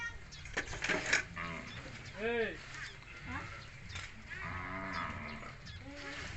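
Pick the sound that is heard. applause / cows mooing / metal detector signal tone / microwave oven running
cows mooing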